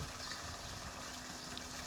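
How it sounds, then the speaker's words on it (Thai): Steady rushing water from a waterfall, a constant broadband roar with no break, heard close and alone. "ฟังเสียงน้ำตกไปด้วย"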